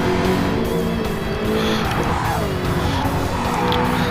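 Jaguar and Porsche RSR race cars in a sim racing video game roar continuously, with engines rising and falling through gear changes and tires squealing through corners, loud and close throughout.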